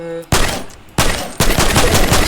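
Primitive shotgun in a video game fired three times, loud booming blasts spaced roughly half a second apart, each followed by a decaying rumble, with a short tone heard just before the first shot.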